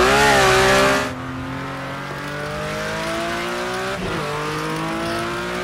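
A diecast toy car on a custom chassis, driven by an N20 motor and LiPo battery, runs with a steady high electric whine whose pitch climbs gradually. The start is a loud, brief burst of broad noise.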